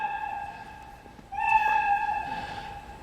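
A cartoon cat meow sound effect plays in a Scratch program, two synthetic meows in sequence, the second louder and longer, clear and close with no talking.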